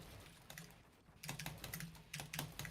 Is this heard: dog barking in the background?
no